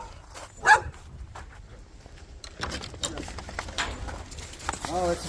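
Several dogs bark outdoors in short, scattered bursts, one sharp loud bark standing out early, with birds and jangling keys in the background and people talking nearby.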